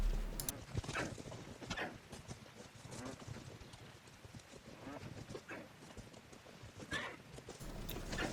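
A horse in the video game Life is Feudal clip-clops along with steady, fairly faint hoofbeats, with occasional louder impacts and a soft wind-like hiss underneath.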